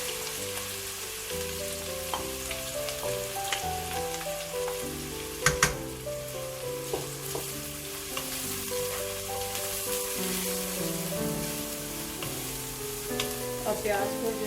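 Two medium chopped onions frying in a pan, giving a dense, continuous sizzle over a musical background, with a couple of sharp clanks of a spoon against the pan midway.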